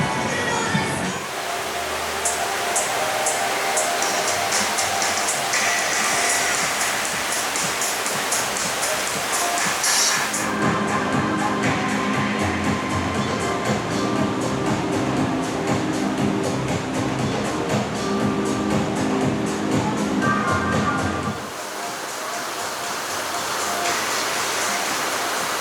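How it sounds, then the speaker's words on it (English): Rushing white water from the rapids of the Infinity Falls river ride at SeaWorld Orlando, a dense continuous roar heard from nearby, swelling louder through the middle and easing slightly toward the end. "It does appear all the rapids are on"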